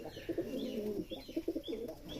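Pigeons, racing and high-flying birds, coo in a steady run of low, throaty phrases, close by and fairly loud, with no talk over them.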